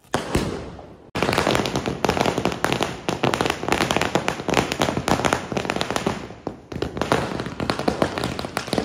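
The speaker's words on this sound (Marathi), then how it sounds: "फटाक्यांची आतिषबाजी" Firecrackers and fireworks crackle and pop almost nonstop at a village wedding procession in Akurli, loud and close, with dense rapid bursts after a short quieter opening and no clear speech.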